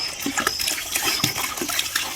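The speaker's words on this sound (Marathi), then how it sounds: "मी इथं नळी सोडणार आहे आणि मी नळ चालू करतो" Water gushes and splashes steadily from a tap through a hose onto muddy toy vehicles, close and continuous with irregular spattering.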